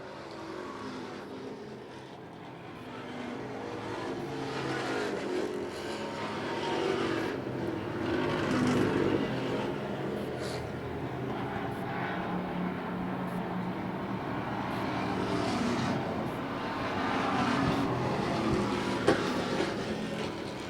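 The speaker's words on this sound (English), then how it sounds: "The 74 car now pressuring Jeremy Glazier in the 99" Stock race cars circle the Portland track in a street-stock race, a continuous roar of several engines rising and falling as the pack passes, heard from a distance.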